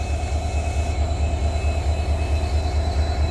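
An Indian Railways train runs along the tracks on a line where electrification works are still under way, giving a loud, steady rumble with rhythmic low-frequency pulsing from the wheels and a constant high whine above it, with no voices.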